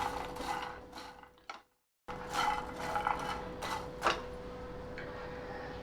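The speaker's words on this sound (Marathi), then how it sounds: "आणि व्यवस्थित तो मसाला सगळ्या मखाण्यांना कोट करायचा आपल्याला व्यवस्थित हलवून घ्या" Makhana being shaken and tossed in a pan to coat them with masala, giving a rattling, scraping churn in several bursts with a brief silent gap, nearby and without speech.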